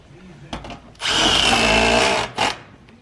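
Power driver running small inch-and-a-half screws during steel installation on a building site, one loud sustained whirring burst of about a second and a half, preceded and followed by shorter buzzing spurts.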